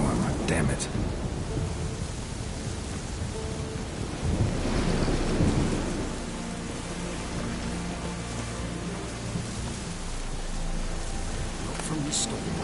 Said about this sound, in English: From this storm on the bridge across the water.